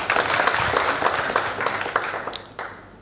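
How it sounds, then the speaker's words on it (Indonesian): Church congregation applause during a sermon, brisk clapping that is loud at first and then gradually thins and fades over a few seconds. "Berikan tepuk tangan buat Tuhan Yesus ya."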